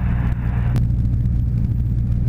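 The engine of a Sling 2 light airplane in flight as the throttle is pulled back, a steady low droning rumble heard from inside the cabin, a brief click near the start.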